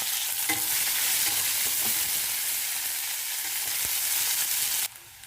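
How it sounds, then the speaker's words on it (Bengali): Onion fries in spiced oil with bay leaf, dried red chilli, whole garam masala and cumin, giving a dense, continuous sizzle with a few spatula scrapes before it cuts off abruptly near the end. "পেঁয়াজটা ভাজা হয়ে গেছে"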